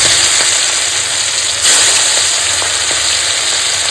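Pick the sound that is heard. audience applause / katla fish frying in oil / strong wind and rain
katla fish frying in oil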